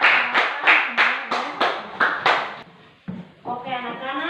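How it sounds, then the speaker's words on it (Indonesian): A classroom of young pupils claps in a steady rhythmic pattern of about eight bursts, followed by a short pause and a teacher speaking close by. "berikan aplaus yang meriah"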